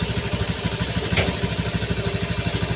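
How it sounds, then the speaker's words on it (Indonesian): A motorcycle engine idling steadily at 1500 rpm, with a close, even pulsing thump and a mechanical clatter above it, and a single brief click partway through. "kita setel putaran gas di 1500 ya"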